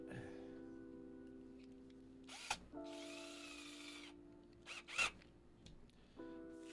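A small power drill with a bit whines in steady bursts while boring a hole for a brass rod in a resin figure, stopping and restarting close up with faint handling noises between runs.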